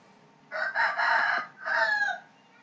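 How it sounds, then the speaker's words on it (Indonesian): A rooster at a neighbouring house crows twice, close and clear: a long, loud call followed after a brief pause by a shorter second crow, with quiet between. "Mungkin ada yang terganggu dengan suara ayam dari rumah sebelah."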